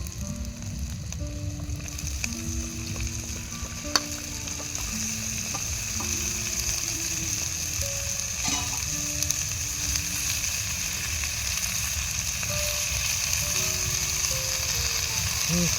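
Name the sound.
chopped vegetables added to frying spices for khichdi, sizzling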